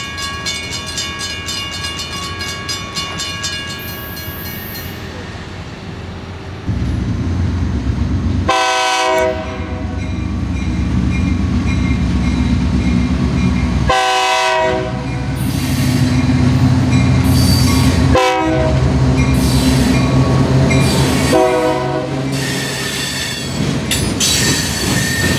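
A Florida East Coast Railway freight train rolls past close by in Hialeah with a loud, continuous rumble of cars and wheels, punctuated by several long horn blasts.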